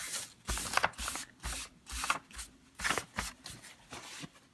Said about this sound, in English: Now I'm just going to use a paper towel and kind of wipe off excess and kind of blend a little bit.